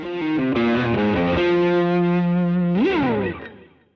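An electric guitar plays through an overdrive and distortion pedal, picking a short descending phrase and then holding a sustained, saturated note that bends upward before fading out.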